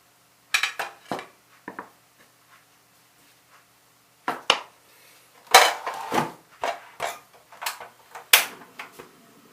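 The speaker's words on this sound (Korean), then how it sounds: "자, 그럼 이제 후라이팬 쓰도록 하겠습니다" A frying pan handled on a stovetop, producing scattered sharp metallic clanks and knocks close by, sparse at first and then busier, with quiet gaps between.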